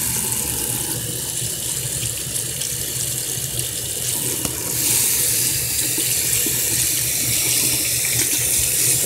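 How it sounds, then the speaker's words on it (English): Makeup brush rinsed under a running tap, a loud continuous rush of water into a sink that grows slightly stronger partway through, with no voices. "Work it back and forth, circular motions. Give it another rinse."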